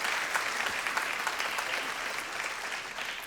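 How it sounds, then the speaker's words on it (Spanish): A church congregation claps together in sustained, dense applause that stays steady and fairly loud from start to finish, with no speech over it. "¿Por qué no le damos unas fuertes palmas a nuestro Señor?"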